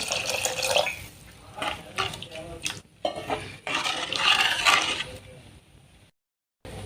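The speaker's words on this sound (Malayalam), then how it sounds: "കുറച്ച് വെള്ളം കൂടി ഒഴിച്ചു കൊടുക്കാം" Water is poured into a pot of Kerala-style fish curry made with tuna and kudampuli, bursts of splashing and trickling that come and go, with a brief silent gap near the end.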